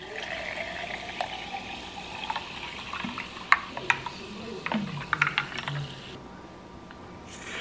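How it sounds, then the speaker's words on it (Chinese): Sparkling water pours into a glass with a crackling fizz and scattered clicks and splashes, the liquid hissing steadily before falling quiet near the end. "然后这是我的气泡水。"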